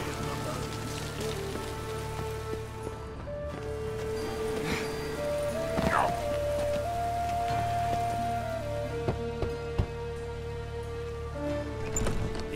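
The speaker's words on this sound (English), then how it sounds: "Rain was coming. Felt it in my bones." Steady rain pattering in The Witcher 3, a continuous even hiss of drops on surfaces under sustained tonal ambient music, with occasional small clicks and knocks.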